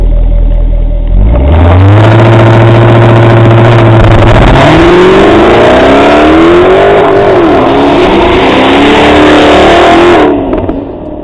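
A Jaguar XKR-S, coupe or convertible, revs hard close up: a low idle rumble swells into a loud climbing engine roar that rises and dips through several gear-like surges before cutting off near the end.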